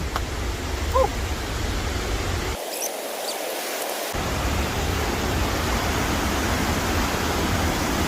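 A continuous loud rush of falling water from Tad Lo waterfall in Salavan Province, Laos, broad and steady with no voices.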